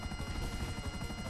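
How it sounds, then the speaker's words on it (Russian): Helicopter engine in the video game GTA, set in Los Santos, droning steadily at close range with a dense low rotor pulse throughout the brief moment, no voices over it. "У меня вертолет постоянно, двигатель глушится."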